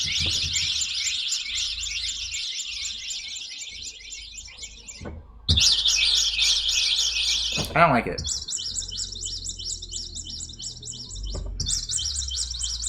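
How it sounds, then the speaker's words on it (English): A synthesized bird tweet sound effect plays from a sound board in repeated bursts of bright electronic chirping, close and fairly loud, with a brief spoken remark between bursts. "I'm going to play the 490th sound because it's Monday and last Friday I didn't get to play it. It's called Bird Tweet."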